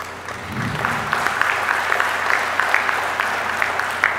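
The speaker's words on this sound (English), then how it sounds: "implore you all to give yourselves a round of applause" An audience at a College of Micronesia-FSM commencement ceremony applauding, a continuous patter of many hands clapping at moderate distance throughout.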